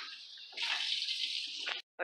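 Close tap water runs in a steady hiss as freshly foraged Devil's Club shoots are washed, getting louder partway through and then cutting off abruptly near the end.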